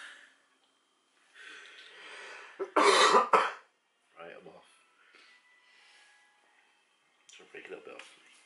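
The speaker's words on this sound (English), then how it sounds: "I've just coughed in my hands" A few throaty coughs and throat-clearing sounds come in quick bursts, one loud cluster in the middle, with quieter breathy noises and soft talk between them.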